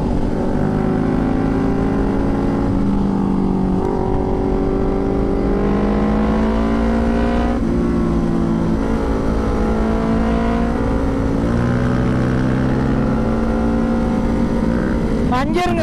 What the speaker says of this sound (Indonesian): Anjir, ngegas mulu bawa motornya.